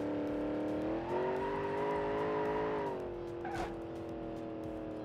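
A Lamborghini towing a loaded trailer in BeamNG Drive, its engine droning steadily at a sustained pitch that shifts slightly as it drives, with a faint tire squeal near the end and no talk.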